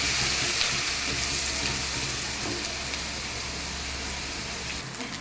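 Onion paste frying in a pan for egg curry, giving a steady, even hissing sizzle at moderate level that continues without a break.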